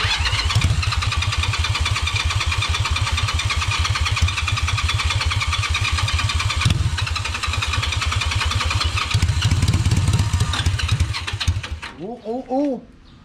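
A neglected custom cart left to rot, with its fuel system cleaned out, cranks and then runs at a rough, fast, steady engine chug before cutting out, and a voice speaks briefly near the end.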